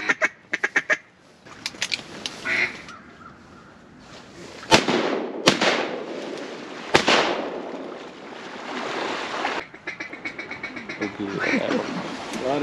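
Several sharp, loud bangs from a .410 shotgun and a pistol ring out on the last day of duck season, with duck quacks between the shots and people talking at times.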